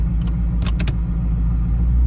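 A 1000 HP 2019 Mustang with its engine idling in drag strip mode as it is put in gear, a steady loud low rumble with faint clicks on top.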